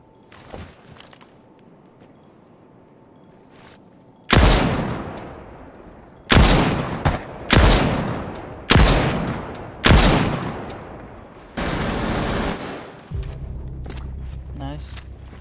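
Gunfire in a first-person shooter game: a loud, close burst opens a run of heavy shots in quick clusters, then a sustained rattling volley, with faint talk underneath and a low rumble at the end.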